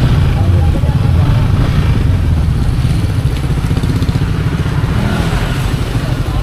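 A motorcycle engine runs loud and close with a constant, rumbling drone, and people talk over it.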